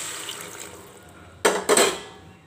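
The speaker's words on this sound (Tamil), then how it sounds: "தேவையான அளவுக்கு நம்ம வந்து தண்ணி ஊற்றிக்கலாம்" Water poured into a pan of frying broad beans: quiet sizzle at first, then two sharp, loud splashing bursts of water hitting the hot pan that fade into a softer hiss.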